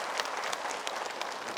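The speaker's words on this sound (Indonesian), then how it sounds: "Tepuk tangan untuk Ustadz Joker." A studio audience at an Indonesian religious talk show claps steadily, a dense, moderately loud patter of many hands sustained throughout with no voices.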